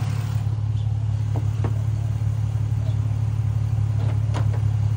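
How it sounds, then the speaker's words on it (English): A 2010 Ford Mustang V6 with a cold air intake idles steadily, a low, even engine hum that holds constant, with a few faint clicks and rattles on top. "V6 engine"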